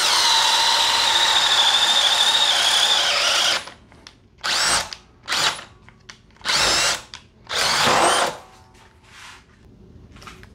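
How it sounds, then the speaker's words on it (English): A Craftsman cordless drill in drill mode at speed 2, on a fully charged 4-amp-hour battery, bores with a 1-inch Diablo speed bit: one long, loud whine, then four or five shorter bursts with pauses between. "That is a 1-inch Diablo speed board or speed demon bit. It is in drill mode."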